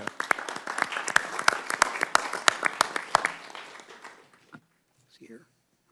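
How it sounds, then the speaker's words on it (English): Audience applause in a Senate Banking Committee hearing room, a few seconds of steady, fairly close clapping that thins out and stops, followed by a short spoken remark. "We'll clap again when he comes"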